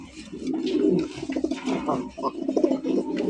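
Fancy pigeons coo in low, throaty rolling calls, several birds close by and overlapping continuously, with someone talking over them.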